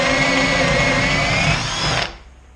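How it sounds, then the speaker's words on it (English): A spade bit in a power drill bores a hole through the wooden entrance of a Layens beehive, giving a loud, steady whining grind for about two seconds before cutting off abruptly as the drill stops. "We'll start by drilling the first hole."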